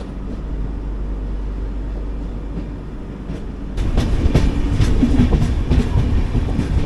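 The 16331 Mumbai CSMT - Trivandrum Weekly Express runs with a steady low rumble that swells louder midway, adding close, rhythmic wheel clatter over the rail joints. No one speaks.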